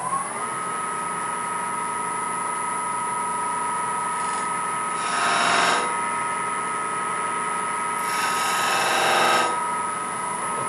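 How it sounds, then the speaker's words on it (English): A skew chisel scribes lines into wood spinning on a lathe while a salt shaker is turned, with two short hissing cuts over the lathe motor's steady close hum. "I'll take my skew chisel and just scribe those lines."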